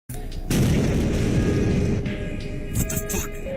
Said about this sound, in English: It explodes, and I guess they're hoping he gets hit by the explosion